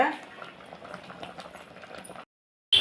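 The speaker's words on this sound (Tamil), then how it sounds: "குழம்பு நல்லா கொதி வந்துருச்சுங்க" Thick cowpea curry bubbling vigorously in a pot, a dense stream of close, gloopy pops that cuts off abruptly near the end.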